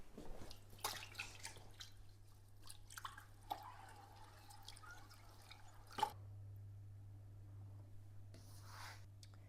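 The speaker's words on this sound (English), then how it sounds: "rinse the plants." Water drips and splashes softly while aquarium plants are rinsed, a few faint irregular drops and trickles over a low steady hum.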